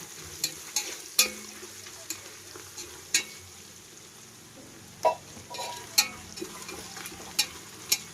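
An onion mixture with turmeric and salt fries in a pan while a spoon stirs it, making repeated sharp metallic clacks and scrapes over a low, steady sizzle.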